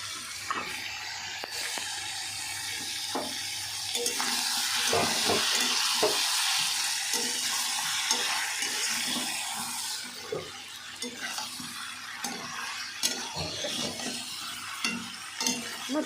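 A curry with green chillies sizzles in a pan while it is stirred, giving steady frying hiss and scraping strokes of a utensil up close, with no one speaking.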